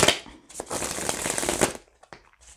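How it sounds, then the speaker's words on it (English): Tarot cards shuffled near the microphone for a love reading, a quick riffling burst of papery flutters lasting over a second, followed by a few soft taps. "I'm gonna shuffle off camera."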